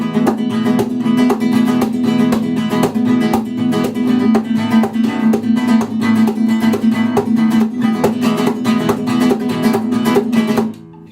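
Flamenco guitar strumming rumba chords in a fast, steady, percussive rhythm, loud and close throughout, ending with a final cutoff and no voices.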